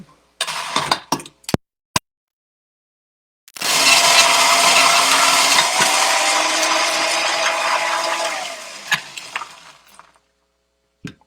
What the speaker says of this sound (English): Stick this under the blender.